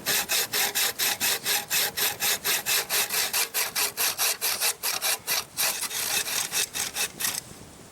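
A hand saw rasps through a wooden log in about thirty even, rhythmic strokes, cutting a cross section for a rocket log stove. The scraping is close and loud with no talk, and it stops abruptly at the end.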